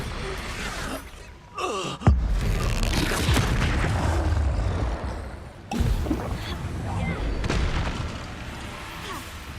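Explosive spells go off during combat in the video game Hogwarts Legacy. Two sudden, loud booms with rumbling tails are mixed with gasps and effort sounds.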